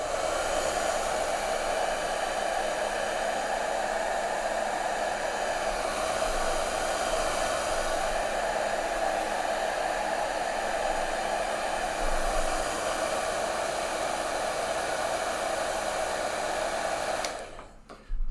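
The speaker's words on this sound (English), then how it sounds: "I need to do a little more heat shrinking, so it's going to be loud for a second." A hair dryer blows steadily at full power for heat shrinking, a loud continuous broadband whoosh that holds unchanged for about seventeen seconds before cutting off abruptly.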